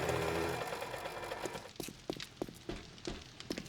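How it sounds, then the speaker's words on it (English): Gas-powered auger in the survival video game 7 Days To Die, a steady mechanical whir that fades into a run of sharp, evenly spaced knocks and cracks. "We have an auger. Why not use the auger?"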